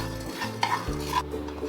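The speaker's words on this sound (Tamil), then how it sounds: "ஒரு நிமிஷத்துக்கு நல்லா வறுத்துக்கோங்க." Chicken frying in a pan over a medium flame while being stirred, a steady close sizzle with scraping spatula strokes and a few light clinks, loud and continuous with no voices.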